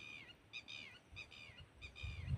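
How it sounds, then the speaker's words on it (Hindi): Shrill, repeated bird calls ring out in short rising bursts over a low rumbling background, several in quick succession. "एक तरीके चिड़िया है, ये चिल्ला रही हैं"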